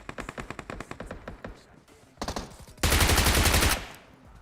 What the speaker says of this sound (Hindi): लेकिन उतरे में ही कोई वहां पे बैठ के गोली चला देता है